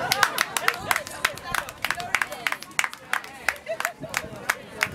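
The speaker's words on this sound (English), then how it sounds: "A round of applause for this." Scattered audience clapping at a school event, loose and uneven bursts of hand claps with some crowd murmur, fairly close and moderately loud.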